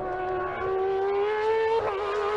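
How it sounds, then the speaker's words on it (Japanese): Dome F105 700-plus-horsepower race car at Twin Ring Motegi, its high-pitched exhaust holding a steady, piercing tone that rises slightly, then dips briefly near the end, loud and continuous with no talk. "ひときわ甲高いエキゾーストの音を響かせる700馬力を超えるモンスターマシン"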